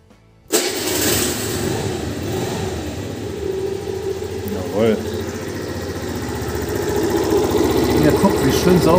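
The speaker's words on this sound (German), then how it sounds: "Bisschen Gas geben." A car engine catches and settles into a steady idle, then the throttle is opened in brief blips and the revs climb toward the end, with people talking close by over the running motor.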